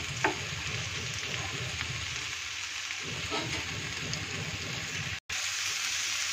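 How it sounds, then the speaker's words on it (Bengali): Pumpkin and potato fry in a pan with a continuous, fairly quiet sizzle and crackle that stays even throughout, with no one speaking. "এভাবে সবজিটা ভাজা হতে থাকুক"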